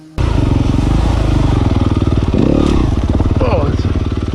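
A motorcycle fitted with a Devol Racing aluminum front brake disc guard runs steadily and close by during a test ride, its engine droning loud and even with a brief surge of revving and light clatter midway.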